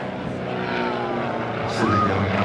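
A light aircraft makes a pass at an airshow, a steady propeller engine drone rising slightly in loudness as it comes by, heard from the crowd line at a moderate distance amid faint background chatter.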